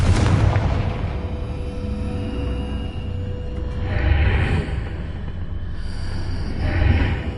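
In Hogwarts Legacy, a Confringo fire spell detonates with a loud, booming blast, followed by two more rumbling bursts spaced a few seconds apart over a low roar.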